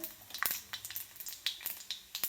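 Peanuts frying in hot oil with cumin in a pan for poha, a soft crackling sizzle with sharp irregular pops, close and fairly quiet, with no one talking.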